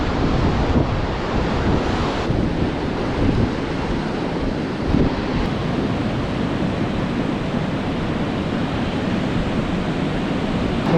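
Surf breaking on a long, soft sandy beach, with steady loud wash and gusting wind buffeting the microphone throughout, no voices.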